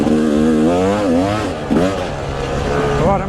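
A Yamaha YZ250 two-stroke dirt bike engine revs up and down in loud, rising and falling bursts, close and alone.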